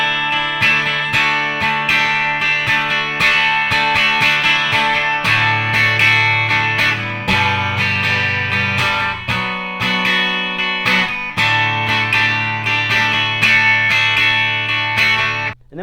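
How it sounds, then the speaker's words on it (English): Electric guitar plays the intro of a song into the first verse line, with strummed chords and picked notes in a steady rhythm, clear and up close with no talking. "I'm going to play through from the intro to the first line of the verse"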